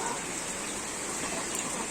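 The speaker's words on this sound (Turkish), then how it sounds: "Yaklaşık bir saattir aralıksız şekilde böyle yağıyor." Heavy rain pours steadily onto a chicken coop, a dense, continuous hiss of drops on the surfaces with no breaks and no voices.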